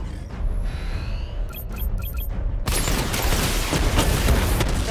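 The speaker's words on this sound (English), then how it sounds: "Charge up missile barrage to level 2 and destroy 4 active targets to complete diagnostic test." Batmobile missile barrage firing in Batman: Arkham Knight, a dense burst of booming launches and explosions that kicks in midway after a mechanical whir and beeping charge-up tones.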